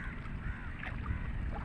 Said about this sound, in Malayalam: ഒരു ബോട്ട് വന്നു കഴിഞ്ഞ്